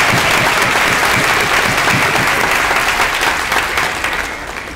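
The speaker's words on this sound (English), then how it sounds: "Let's give them one more round of applause." Sustained applause from an audience at an Atkinson Academy school recognition event honoring presenters, loud and dense throughout before tapering slightly near the end.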